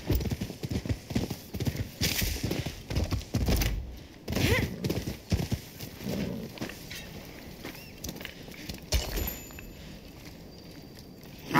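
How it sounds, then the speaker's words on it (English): Horse hooves clip-clop steadily in the Rise of the Ronin video game. The footfalls are fairly close and continuous and sit over game ambience, with faint snorting. "Let's go, horsey."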